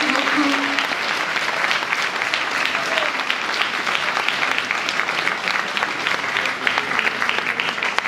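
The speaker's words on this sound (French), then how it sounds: "Alors je pense qu'on peut encore une fois les applaudir" An audience applauds at an evening awards event, sustained dense clapping with individual sharp claps standing out, steady and fairly close for about eight seconds, with a faint voice briefly audible at the start.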